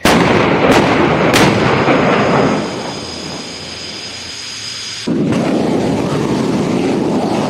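Bofors artillery guns firing shells at high mountain positions in the Kargil War, heard as several sharp, loud blasts in quick succession with rumbling decay, a lull, then another heavy boom.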